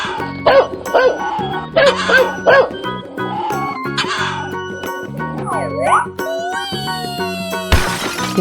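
A cartoon dog barks a few times in quick yips within a 3D animal video game, the short barks riding over upbeat game music, sliding tones and clattering effects, ending with a sudden noisy burst.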